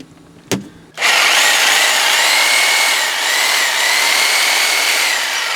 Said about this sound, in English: It will run a Sawzall